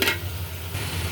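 Spice masala of turmeric, cumin powder and salt being stirred in a pan, a short burst of scraping followed by a low, even sizzle.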